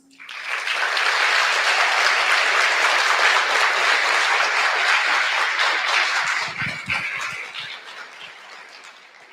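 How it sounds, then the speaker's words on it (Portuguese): A large conference audience at a national teaching congress gives sustained, dense applause for the teaching staff, rising quickly to a full, steady roar of clapping, then tapering off into scattered claps and a faint low voice near the end. "Convidamos a todos para que o nosso corpo docente receba agora uma calorosa salva de palmas"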